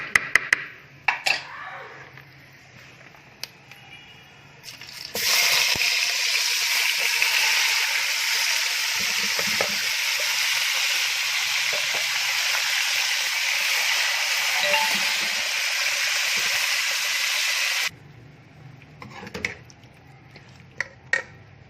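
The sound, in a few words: marinated chicken frying on medium flame for potato curry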